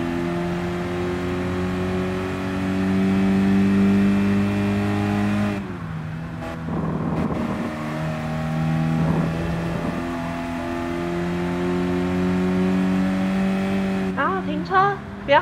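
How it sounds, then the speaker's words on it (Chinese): Racing car in Gran Turismo Sport rolling toward the pit, steady engine drone with a clear harmonic hum that dips and rises as it slows and shifts, close and continuous throughout. "开始之后，我们把车子开到 pit 前面"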